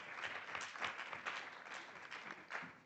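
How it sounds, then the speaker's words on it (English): A conference audience at an arbitration week event in Nairobi applauds an introduced participant, a faint, distant wash of steady clapping with no clear voices. "Let's give him a round of applause."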